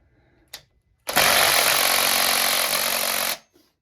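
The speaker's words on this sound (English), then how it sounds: "that Makita doesn't have a ton of torque" A Makita power tool spins a chainsaw clutch counterclockwise on a Stihl MS201TC top-handle saw, a brief click then a loud, steady whirring burst of about two seconds that cuts off abruptly, close up.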